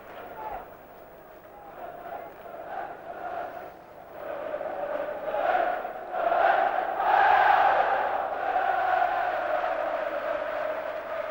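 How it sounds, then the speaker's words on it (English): Home crowd noise at Elland Road during a Leeds v Stuttgart Champions League match in 1992, a broad stadium roar that swells steadily over several seconds and stays loud throughout. "the Ellen Road crowd enjoying this"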